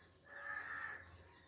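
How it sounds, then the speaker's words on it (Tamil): Crows cawing in an Indian village, a steady call with a harsh tone. It rises through the middle of the short stretch and sits over faint insect chirping, with no voices. "எல்லாமே காக்கை,"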